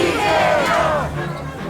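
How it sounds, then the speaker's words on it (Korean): A crowd of political supporters roars and cheers as a party leader walks into a traditional market. The dense, loud chorus of shouting voices fills the whole short moment. "이재명 대표가 재래시장에 들어서자 지지자들이 환호합니다."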